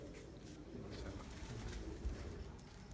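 Pigeons at a Sialkot pigeon-keeping loft coo steadily in low, murmuring tones that blend into a continuous close background, with no one speaking.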